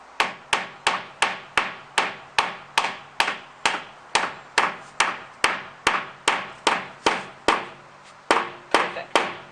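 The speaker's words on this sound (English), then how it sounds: "hammer away" Floor panels in a van build are knocked together with a hammer, about two dozen sharp, evenly spaced blows ringing out close and loud, with one short pause near the end.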